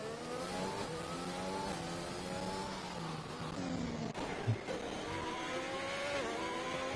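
A Formula 1 race car engine in the F1 2021 game on the Singapore circuit, passing an AI-driven car: a high whining engine note rising and falling with gear changes, plus a brief thump partway through.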